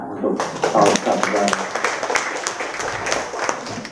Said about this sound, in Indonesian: Tepuk tangan untuk Pak Ustadz.